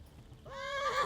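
A horse in Kingdom Come: Deliverance gives a single loud, close whinny that rises and wavers, starting after a brief quiet lead-in of low background rumble.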